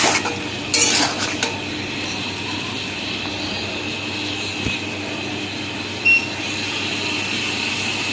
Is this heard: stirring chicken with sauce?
yes